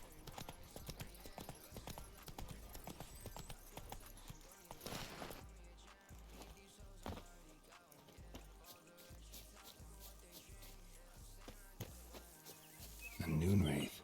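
Hooves of a horse clip-clop steadily in The Witcher video game, a continuous near trotting rhythm with trickling water and game ambience around it and a louder burst near the end.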